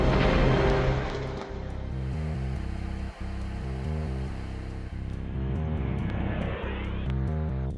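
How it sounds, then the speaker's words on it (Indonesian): Sukhoi Su-30 and Su-27 fighter jets roar overhead during the Sriti Gesit 2017 air force exercise at Lanud Hasanuddin, a loud broad rush of engine noise at first that settles into a steady, droning rumble with shifting tones. "Pesawat udara itu ada pesawat tempur Sukhoi 30 dan Sukhoi 27"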